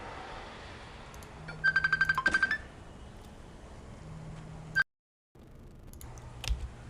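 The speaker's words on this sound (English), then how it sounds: "I had a phone call come in" A mobile phone rings with an incoming call: a quick run of about eight chirping electronic pulses, then a single brief tone later, fairly faint over a low background hum with no talk.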